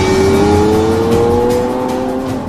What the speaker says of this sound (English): each Aventador must undergo one final phase: the all-important road test